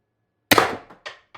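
A single sharp pop from a CO2-powered airsoft X-68 Storm Trooper gun firing a 10g riot ball, a loud close crack with a quick decay, followed by two softer short knocks.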